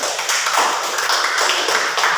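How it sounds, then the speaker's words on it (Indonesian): Dense, continuous clapping from a group at a school counseling session, close and loud without a break. "Tepuk tangan."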